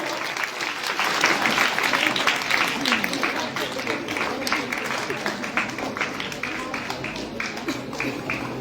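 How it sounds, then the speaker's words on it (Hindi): Steady audience clapping for students receiving prizes at a free bicycle distribution event in Mukundgarh, a thick continuous patter of many hands, with faint voices and crowd murmur beneath. "जोरदार तालियां बजनी चाहिए बच्चों के लिए।"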